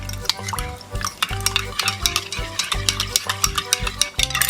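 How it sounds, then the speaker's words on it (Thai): Sugar stirred into eggless banana donut batter until it dissolves: a rapid, steady series of close utensil clicks and scrapes against a bowl, clear and loud. "คนให้เข้ากันค่ะให้จนน้ำตาลทรายละลายหมดนะคะ"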